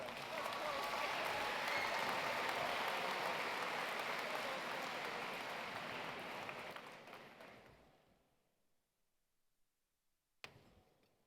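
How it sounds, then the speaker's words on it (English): An audience at the 2018 Science Olympiad National Tournament closing ceremony breaks into sustained applause, dense and even for several seconds, then thins and fades away to near silence, with a single faint knock afterward. "Please give them a big round of applause"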